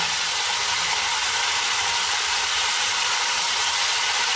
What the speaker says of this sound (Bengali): এই তেলে এবার তেজপাতা, এটা আবার দুটো তেজপাতা দেবো এই তেলে।